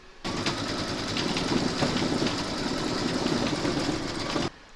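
A home embroidery machine stitches out a Christmas door-tag design, giving a steady, close mechanical whirr with rapid needle chatter that runs unbroken for about four seconds and then stops abruptly.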